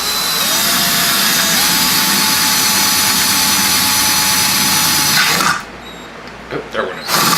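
A power drill enlarging a small pilot hole in metal to 3/8 inch: a loud, steady high whine with grinding runs for about five seconds, then cuts out, leaving brief quieter rattles.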